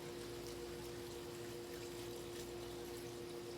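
Distilled water poured into a vase for a flower arrangement, a faint, steady trickling stream that runs unbroken under a low hum.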